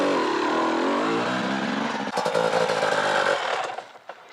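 A motorcycle engine on a hillside runs loud and steady, then sputters through a few rough bursts and dies out when the rear brake stalls it.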